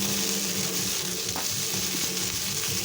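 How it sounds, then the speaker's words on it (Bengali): Okra frying in a pan on a home stove gives a steady, close sizzle with a constant hiss and small popping crackles throughout. "এদিকে আমার ভেন্ডি ভাজাটা হয়ে গেছে,"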